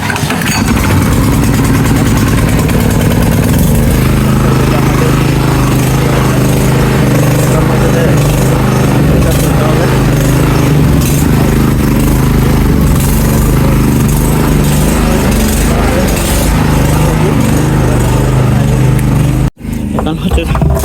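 A generator engine starts after its battery has died and settles into a loud, steady running drone, used in the morning to pump water, holding constant throughout before a brief dip near the end.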